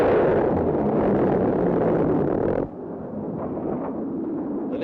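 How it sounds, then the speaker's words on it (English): A dense, continuous roar of extremely rapid 20mm automatic cannon fire from high-peg gun pods on a Skyhawk aircraft, loud and sustained, dropping abruptly partway through to a lower rumbling drone. "The Navy-developed high-peg fires at a faster rate per barrel than any other automatic weapon ever produced"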